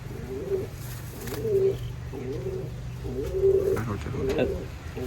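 Pet pigeons coo in repeated soft, throaty rolling phrases, about four close bursts over a low steady background hum, with no talk over them.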